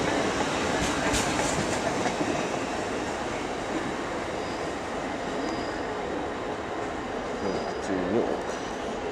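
British Rail Class 170 diesel multiple unit passing through a station at Leeds, a loud steady rumble throughout with faint rhythmic rail clatter and a brief voice.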